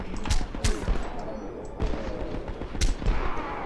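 Rapid sidearm gunshots from the video game Homefront, several sharp loud bursts spaced across a few seconds over a dense, busy game soundscape.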